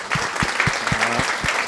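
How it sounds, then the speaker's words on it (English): Short burst of applause for podcast hosts, a few people clapping in a quick, even rhythm close by. "Clap it up for us, guys."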